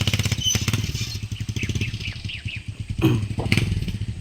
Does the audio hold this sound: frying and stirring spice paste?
no